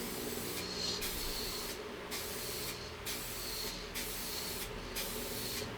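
Spray paint hisses onto an Epiphone SG guitar during a restoration, coming in six short, even bursts about a second apart, each a close, sharp airy jet over low room noise.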